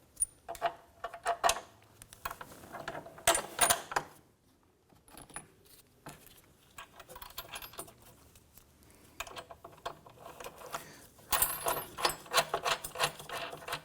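Metal brackets being fitted to the rear bumper of a 1993–1997 Ford Ranger, with irregular close clinks, rattles and tool clicks in clustered bursts.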